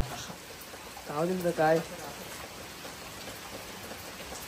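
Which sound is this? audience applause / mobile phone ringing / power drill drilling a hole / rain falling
rain falling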